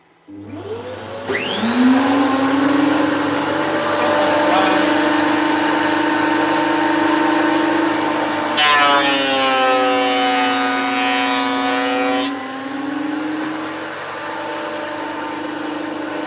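A woodworking machine cutting timber: a motor spins up to a loud steady whine and holds, with a harsher buzzing stretch partway through as it cuts, then eases back a little, close and with no talk.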